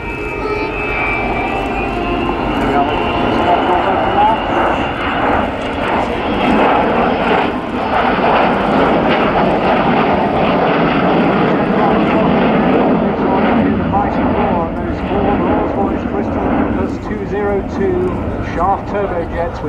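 An Avro Vulcan XH558 jet bomber with Olympus turbojets flies a display at an RAF Waddington airshow, a loud sustained roar of jet engines that swells and fades as it passes, with a commentator talking over it throughout.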